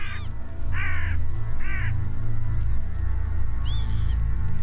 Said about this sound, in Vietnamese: Một con quạ.